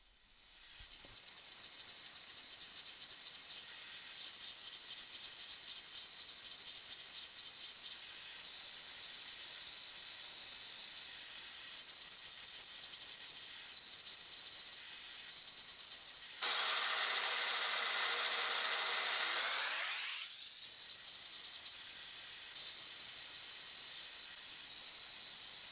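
A grinder working the edge of a forge-blackened hand-forged steel hunting knife, a steady bright hissing whine throughout that drops into a deeper grinding tone near the end before the pitch sweeps back up, loud and close with no voices.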